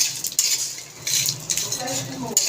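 Metal spoon scraping and clinking in a pan over low heat after a little oil is added, for dried anchovy fried rice; close repeated clatters in quick uneven strokes with a faint sizzle beneath, no talking.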